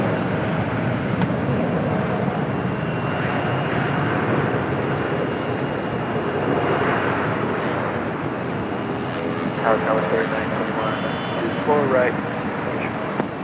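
Delta Connection Embraer E175LR regional jet at LAX, a steady broad engine roar filling the whole stretch, with someone talking over it.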